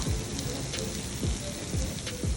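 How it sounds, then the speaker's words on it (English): Soft crackling sizzle with faint pops and a low steady hiss from a Sicilian pizza fresh out of the oven, quiet and close. "it's out of the oven, it's sizzling"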